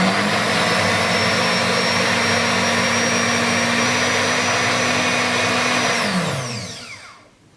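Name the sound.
blender pulping paper in water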